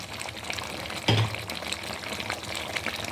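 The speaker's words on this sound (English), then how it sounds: "I'm going to add our fresh fish" Fresh fish dropped into a pot of boiling egusi soup, a single soft splash-thud over a steady bubbling simmer that continues close by, no voices.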